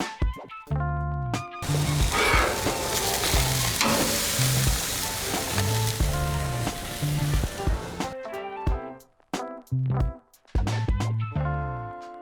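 Tri-tip steak sizzles loudly in a hot pan or grill, a dense continuous crackle that stops briefly and returns in bursts, with intermittent clinks between, no voices.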